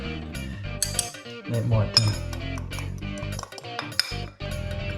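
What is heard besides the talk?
fork fluffing up beer batter in a bowl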